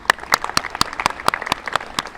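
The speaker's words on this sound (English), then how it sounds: "give you a hand of applause" Audience applause at a San Francisco event welcoming the AIDS Memorial Quilt, heard as sharp, fairly close individual claps in an even rhythm, a small group clapping for a couple of seconds.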